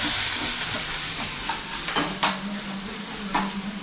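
Onion frying in oil in a pan, a steady close sizzle with intermittent scraping and clinks as a spatula stirs it, no voices.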